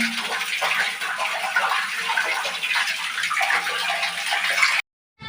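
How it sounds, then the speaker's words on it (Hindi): Tap water gushes steadily into a bucket at home, a loud, close, continuous splashing rush that stops abruptly near the end. "मैंने एक बाल्टी रात को भर देती हूँ, तो एक बाल्टी अभी भरी हूँ"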